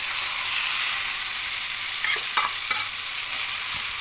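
Khichuri mix is stirred into fried onions in a cooker, giving a continuous close sizzle with a few brief scraping clicks from the spoon near the end.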